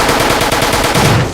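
Rapid automatic gunfire from the video game Fallout New Vegas, The Lonesome Road, fires as a loud continuous burst of evenly spaced shots and then cuts off.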